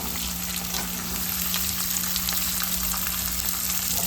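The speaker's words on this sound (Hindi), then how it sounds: "फिर प्याज को भूनूंगी पहले," Onions frying in oil with cumin, asafoetida and garlic for a Rajasthani dal baati meal: a steady, close, continuous sizzle with a low hum underneath, no talking.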